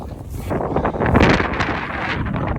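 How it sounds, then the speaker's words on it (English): Gusting wind in the Scottish mountains buffets the microphone with a steady, roaring rumble that swells slightly in the middle, with no voices. "Because that's exactly the way the wind is blowing."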